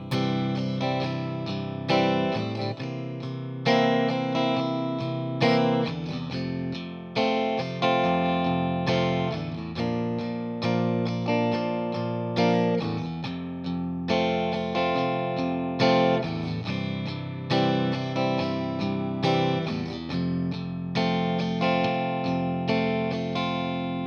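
Steady strummed guitar chords in a regular rhythm, each strum ringing with an effected, slightly processed tone, continuing for the whole stretch without talking.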